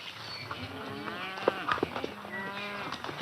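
Cattle from a ranch herd low and moo in several overlapping calls, some drawn out and others short, moderately close over a quiet outdoor background with no talking.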